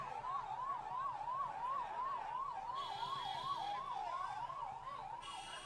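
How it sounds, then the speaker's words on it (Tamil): An ambulance siren wails on a busy road in Tamil Nadu, its steady rising-and-falling yelp cycling continuously and loudly, with bursts of a higher electronic tone and traffic rumble beneath, no speech. "இந்த ஆம்புலன்ஸ் போகுது வண்டியை வழி விட்டுருங்க"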